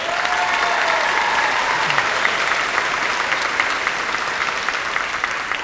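A graduation audience for the class of 2016 claps steadily and loudly throughout, a dense wash of hand claps from a large crowd with no pauses.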